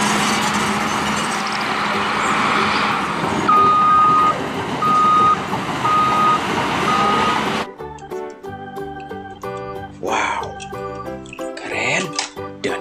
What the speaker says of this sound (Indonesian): ada mobil road roller